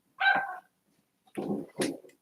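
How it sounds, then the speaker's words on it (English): Household dogs barking indoors, three sharp barks in quick succession with a short pause after the first, fairly close and loud against a quiet room. "and my dogs are barking."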